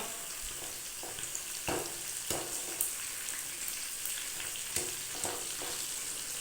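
Pieces of chicken fry steadily in hot oil, a continuous close sizzle with occasional louder pops and stirring scrapes, no voices.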